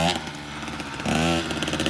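A KTM 85 two-stroke dirt bike engine buzzes close by, revving up harder partway through as the rider eases out the clutch at takeoff.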